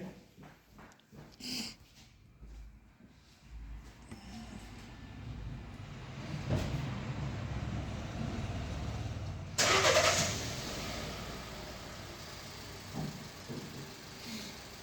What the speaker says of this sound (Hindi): गाड़ी स्टार्ट कर यार।